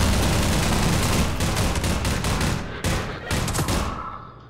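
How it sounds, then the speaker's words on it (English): Enemy gunfire in the shooter game Half-Life 2, a loud rapid volley of shots with short gaps, fading out at the end. "I notice somebody starts shooting at me"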